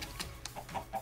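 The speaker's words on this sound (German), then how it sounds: "ich glaub, das ist ein seltsames Huhn" Chickens in the Minecraft video game cluck in short, soft, scattered bursts, a few quiet calls over a faint background.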